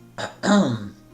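A short throat clearing: a brief rasp, a pause, then a louder, longer guttural clearing, close and alone.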